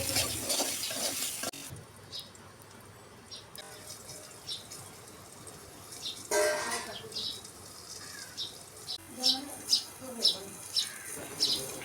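Potato pieces with salt and turmeric are stirred in a pan with a spoon, giving repeated scraping and clicking strokes over a faint sizzle. The strokes grow more rhythmic toward the end.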